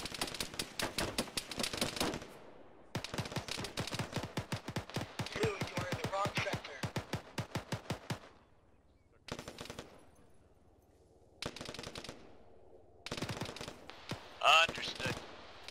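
Rapid bursts of automatic gunfire from a military firefight in the Arma video game, dense volleys in the first half, then shorter separated bursts and a few sharp single shots, loud and close.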